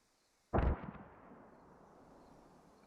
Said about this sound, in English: Those are fairly good mortars.